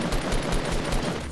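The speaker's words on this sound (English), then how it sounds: "I'm getting shot from behind." Rapid gunfire during a Fortnite Battle Royale match, dense and continuous bursts filling the short stretch at steady loudness with no voices over it.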